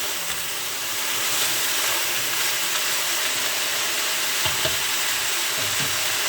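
Peppers and onions sizzle alongside seared lamb in a pan for a spring lamb navarin: a steady, dense frying hiss that continues without a break, with a couple of soft stirring knocks near the end.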